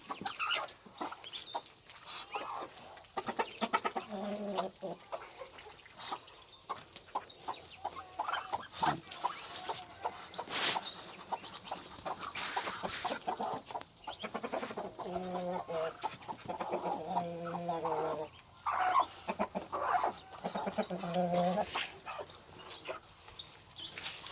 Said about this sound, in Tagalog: Rhode Island po yan, yung dalawang pulang manok na yan.